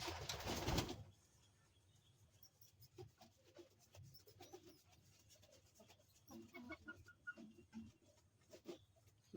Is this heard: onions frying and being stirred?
no